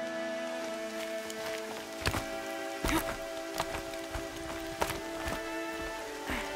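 Rain falling in the video game Horizon Zero Dawn, a quiet steady patter with a few sharper drop or step-like ticks over a soft tonal game ambience, faint and without speech.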